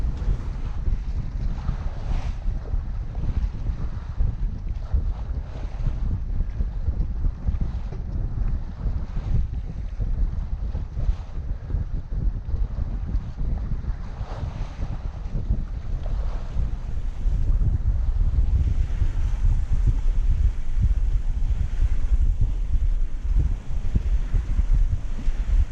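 Steady wind roars and buffets the microphone aboard a sailboat heading home under a reefed main on a windy, sunny day, with water rushing and slapping along the hull throughout, loud and continuous with no talking.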